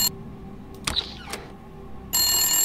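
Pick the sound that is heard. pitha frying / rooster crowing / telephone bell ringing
telephone bell ringing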